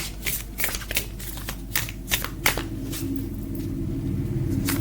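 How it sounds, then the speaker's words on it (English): Oracle cards being shuffled by hand, a series of crisp riffling bursts and flicks close up, followed by a low steady background rumble. "these are Rebecca Campbell's series of cards, and I have all 3 of the starseed ones"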